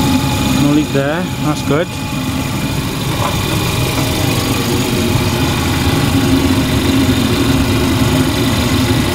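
A wrecked salvage Audi A3 Convertible idles with its radiator fan expected to run after a new radiator and condenser are fitted. A steady, loud engine drone runs throughout while someone talks briefly over it near the start.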